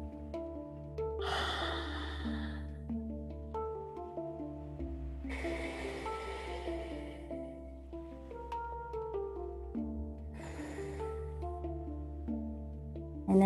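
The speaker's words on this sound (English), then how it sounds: "Breathe out through your mouth again 3 times." Three long yoga exhalations out through the mouth, evenly spaced and airy, over soft sustained background music.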